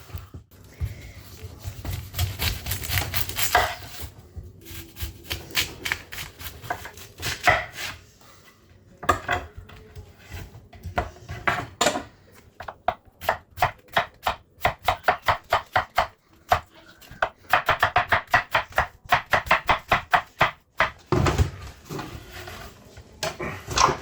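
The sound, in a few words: chopping pork into small chunks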